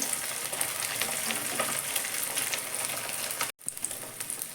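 Steady loud sizzling and crackling of bhetki fish pieces frying in hot oil, with a brief cut-out near the end before the sizzle resumes.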